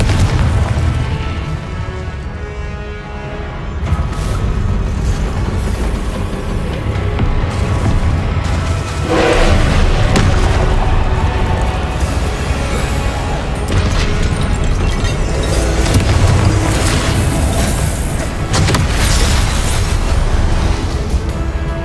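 Confringo blasting-spell explosions in Hogwarts Legacy, loud deep booms and bursts rolling on through dense, continuous battle noise.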